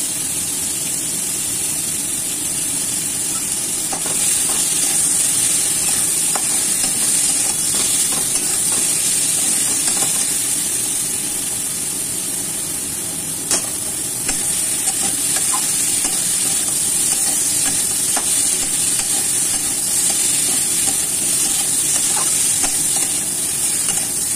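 Crab and carrot curry frying in a pan with curry powder, a continuous even sizzle with faint scraping and stirring clicks throughout, no voices.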